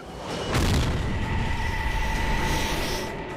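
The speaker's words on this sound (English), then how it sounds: "Suddenly, there's a flash and a loud bang." An explosion on an aircraft carrier flight deck during catapult launch preparations with Skyhawk jets: a sudden deep boom swelling into a sustained roaring rumble with a faint high whine, loud and without speech.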